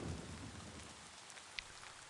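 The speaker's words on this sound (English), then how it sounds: "That was a good call, Pancreas, with the rain." Rain from the visual effect in the video game Summoner's Fate hisses steadily, a soft, even patter, faint and continuous with a single small drop tick and no talk.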